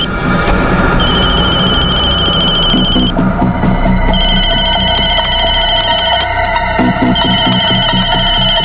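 A telephone bell rings loudly in repeated electronic trills, pausing briefly and starting again, over a dense dramatic music bed with no speech.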